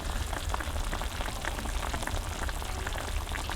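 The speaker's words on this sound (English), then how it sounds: "So it just started to boil, so I just turned it down a little bit and just let it simmer" Beef broth coming to a boil in a pan, a dense, even hiss of fine bubbling and crackle that continues steadily and close by.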